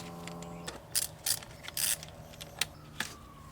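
Small clicks and ratcheting metallic bursts from a T25 Torx tool working on a charge pipe sensor in a BMW F30 engine bay, a few short separate bursts close up over a steady low hum.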